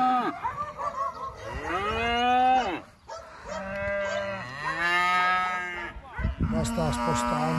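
Piemontese cattle on an alpine pasture low repeatedly as they are moved to fresh grazing. Several long, loud drawn-out moos follow one another close by, with a brief quiet gap partway through.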